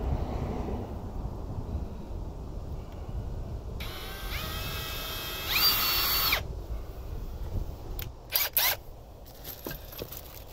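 A power drill bores angled holes down into the plywood flooring of an RV trailer's slide-out, a sustained whirring burst in the middle followed by a couple of short, sharp drill spurts, with wind noise around it.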